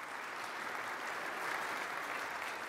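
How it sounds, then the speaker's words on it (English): Steady, dense applause from a church audience after an orchestra performance, evenly sustained throughout with no voices standing out. "You're clapping for yourselves."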